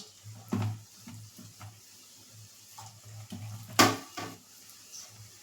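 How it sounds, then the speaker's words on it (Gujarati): Fresh corn pakoras (bhajiya) dropped into hot oil on a low gas flame, a soft steady sizzle under occasional clinks of a spoon against the pan and one sharp metallic knock. "ભજીયા છે તે આપણે આ રીતે પાડી લેશું"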